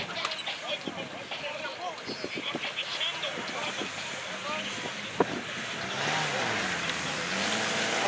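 A Shark buggy races in a drag race at a UAZ club event, its engine droning at a distance through wind noise, with voices talking over it.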